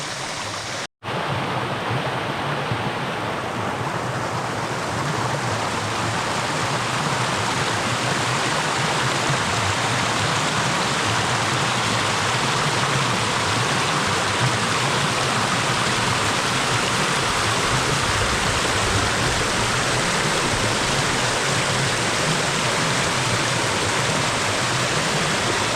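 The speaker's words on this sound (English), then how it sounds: "Waterfall over there." Steady, dense rushing of a waterfall and flowing creek in Barron Gorge National Park, a constant full roar of water with no voices, continuing unchanged throughout.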